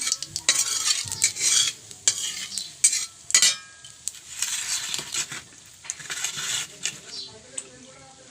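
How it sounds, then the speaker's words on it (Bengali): Cumin seeds crackle and sizzle in hot oil in a village kitchen, a busy broadband frying hiss with scattered sharp pops and stirring clatter, fairly close and steady. "জিরেটা কালো হওয়া পর্যন্ত অপেক্ষা করব।"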